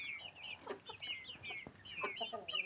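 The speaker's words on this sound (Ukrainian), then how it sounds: "Підростає наша нова порода Амрокс." Young Amrox chickens cluck and chatter softly in a series of short, uneven calls, fairly close and quiet, with no talking.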